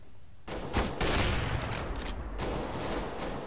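Rapid bursts of gunfire from Counter-Strike: GO fill the stretch, loud and dense with overlapping shots and no pauses for talk.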